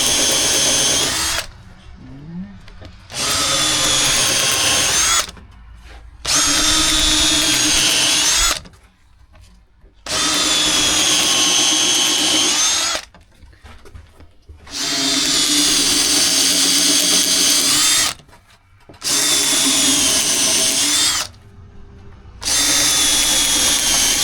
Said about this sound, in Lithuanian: Žiūrim, čia gręžiu.